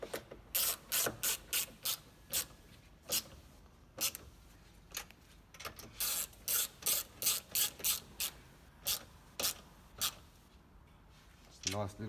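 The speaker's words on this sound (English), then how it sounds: "we'll go up and just nip up the nuts" A ratchet clicks in quick, sharp bursts of several strokes at a time as nuts are tightened on a towing mirror mount on a Toyota Prado 150 Series. The sound is close, with short pauses between the runs of clicks, and someone talks quietly between them.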